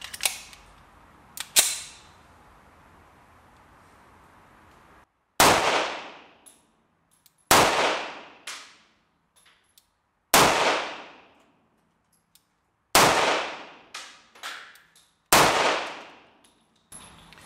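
Sharp, loud Tokarev TT-33 pistol shots ring out one at a time with long pauses between, each followed by a metallic ringing decay; about six shots.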